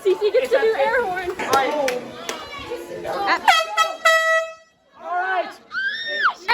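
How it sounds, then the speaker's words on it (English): A handheld air horn blasts several times amid loud chatter and laughter from a group of young people at a Nerf war, the honks cutting through the talk in short bursts. "Cece gets to do air horn."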